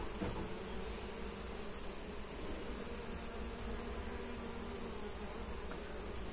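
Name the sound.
buzzing of bees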